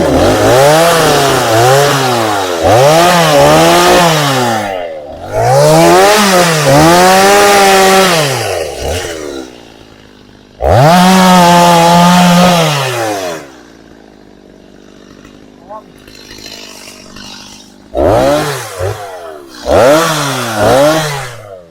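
A chainsaw cuts firewood in a forest, loud and close, its engine revving up and down in repeated bursts between idling pauses, with no voices.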